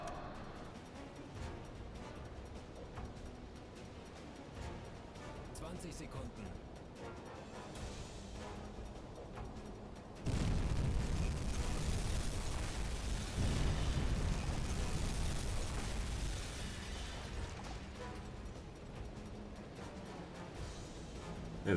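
Torpedo hits explode against a ship in the UBOAT submarine video game, a quiet rumbling stretch followed by a sudden loud, sustained blast that roars for several seconds before easing off.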